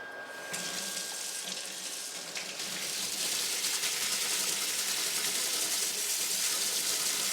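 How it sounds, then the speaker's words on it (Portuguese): Tap water runs steadily into a sieve, rinsing recovered seeds: a loud, close, continuous splash and hiss that swells slightly as the flow strengthens. "As sementes recuperadas em uma peneira são lavadas na água corrente."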